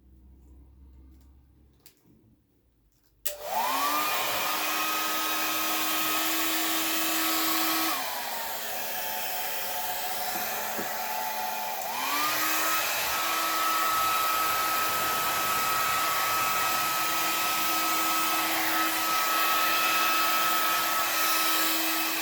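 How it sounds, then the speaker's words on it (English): A hair dryer switches on after a quiet moment and whirs steadily for the rest of the clip, its pitch shifting slightly as the setting changes, used in a Dutch pour painting technique. "I'm going to take my blow dryer."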